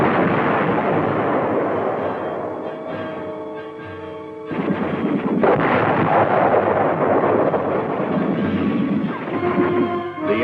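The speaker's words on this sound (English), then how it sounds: "the tanks meet heavy fire from enemy tanks and anti-tank guns" Tank cannon and anti-tank gun fire around an M60 Patton tank in a combat documentary, a dense, loud rumble of booming shots and blasts rolling almost continuously, with a sharp burst near the middle.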